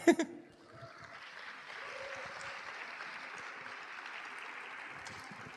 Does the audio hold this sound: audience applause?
yes